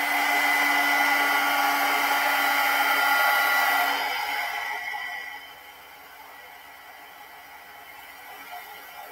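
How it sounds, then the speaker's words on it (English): A heat gun blows steadily and close by while heat embossing powder is melted on a handmade card. The whirring roar holds for about four seconds, then fades to a softer, lower hum as the gun is turned away or switched off, with no talking. "I'm just going to hold it on one end to do the first round of heat emboss"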